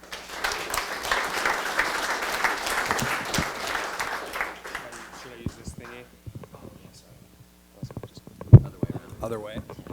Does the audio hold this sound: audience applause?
yes